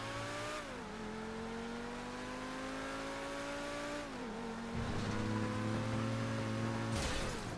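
A game car engine drones steadily in GTA 5, its pitch sliding down and climbing back as it revs and strains, loud and continuous with no talk, as though the car is caught in a narrow spot.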